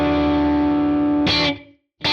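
Crunchy overdriven electric guitar through a Tone King Imperial MKII amp model in Neural DSP, with room and bloom-style reverb: a sustained chord rings with a reverb tail, cuts to silence, then a new strum starts.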